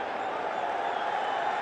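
Cricket crowd roaring at a T20I match between Pakistan and New Zealand during a tense final over, a steady wash of cheering and applause from a large stadium audience.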